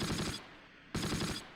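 Machine gun fire from a half-track in the video game Close Combat: two dense, loud sustained bursts, each under half a second, separated by a short quieter gap.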